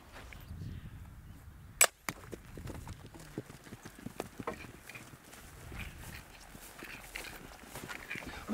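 An injured mare's hooves clip-clopping on ground in the Camargue nature reserve, scattered irregular thuds and steps at close-to-mid distance, with one sharp sudden knock early on and no talk.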